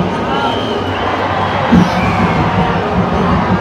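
Dense crowd noise at the Chinchpokli Chintamani Ganesh arrival procession in Mumbai, a loud constant roar of voices and shouting with a dull thump partway through and people talking nearby.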